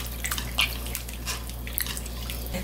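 Washed beef pieces for radish soup left to drain, with faint water drips and trickles falling close by over a steady low hum.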